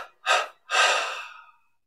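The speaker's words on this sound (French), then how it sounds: "Puis on prend une inspiration profonde, expire en 3 fois" A person takes a deep breath and exhales in separate airy bursts: a short breath sound, a brief pause, then a longer, gradually fading exhale, close and alone.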